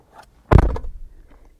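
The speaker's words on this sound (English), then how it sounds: "quite tinny doors" A 2024 Toyota Land Cruiser door is shut once, giving a single close, loud thunk with a thin, tinny rattle as it fades.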